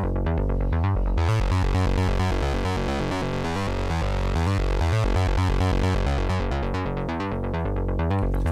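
Percussive synth bassline from a Novation Peak, loud, tight repeating pulses in a driving steady rhythm, opening with sparse hits before the full pattern locks in, no voices.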